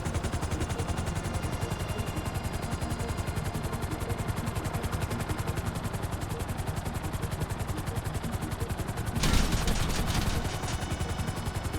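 Sustained, rapid automatic gunfire in Grand Theft Auto V during a mission, a dense continuous rattle with a brief louder burst of heavier fire near the end, no talking.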